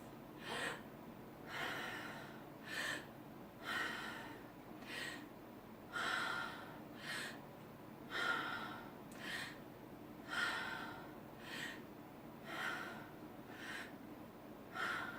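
Strong breathwork breathing, a slow regular cycle of forceful breaths roughly every second or two, heard close but fairly quiet with no talk.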